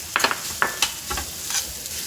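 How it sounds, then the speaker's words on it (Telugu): Fresh grated coconut roasts in a pan for ragi laddus, crackling with a soft sizzle as a spoon scrapes and stirs it in a few brisk strokes, close and steady. "మనం దీన్ని పచ్చి కొబ్బరి కాబట్టి కొంచెం వేయించుకుందాం"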